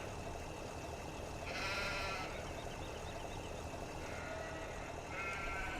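Sheep bleating in Farming Simulator 17, several wavering calls over a constant farm vehicle engine drone, moderately loud and close.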